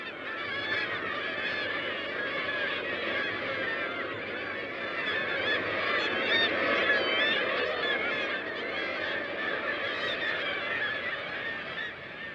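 Black-legged kittiwakes calling at nesting cliffs, a loud continuous chorus of many overlapping seabird cries, steady throughout.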